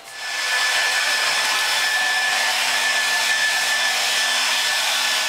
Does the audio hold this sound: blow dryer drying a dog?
yes